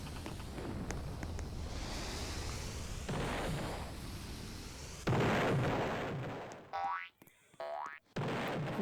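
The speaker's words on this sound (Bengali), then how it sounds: "ও বোম দিয়ে ব্লাস্ট করি" A bomb blast in a Roblox sky-tower battle game: loud, rumbling explosive bursts and booming impacts. A springy boing-like effect repeats twice near the end, with no talk.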